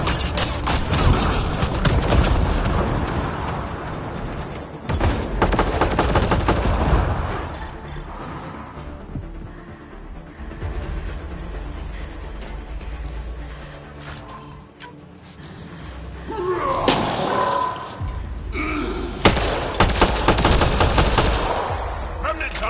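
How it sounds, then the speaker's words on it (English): Repeated video game gunfire aimed at a Kett device, loud bursts of shots in clusters with quieter gaps between, a background score running underneath. "Shooting the device will destroy it."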